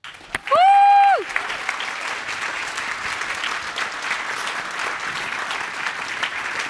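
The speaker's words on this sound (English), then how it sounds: "Round of applause again for Renate, come on." An award show audience in Berlin breaks into sustained applause, a dense wash of clapping that begins after a brief rising tone and continues steadily to the end, fairly close and loud.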